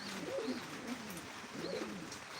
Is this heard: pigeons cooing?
yes